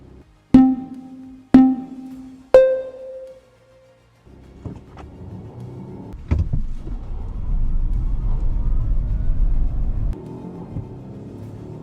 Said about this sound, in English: We're gonna do the drag race first.